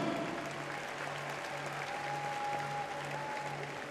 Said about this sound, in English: Des applaudissements, s'il vous plaît, pour Sébastien, Zen et Thomas